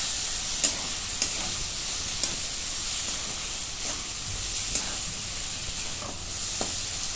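Ginger, garlic and chili paste sizzles and hisses in a pan for bhurji pav, with faint, spaced stirring clicks under a continuous bright frying hiss, nearby and without talk.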